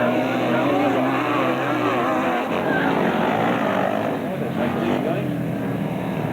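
Grasstrack sidecar motorcycles racing at the 1995 Inter Centre Grasstrack Championships, throttles wound up, giving a loud, continuous engine roar beneath a commentator talking throughout.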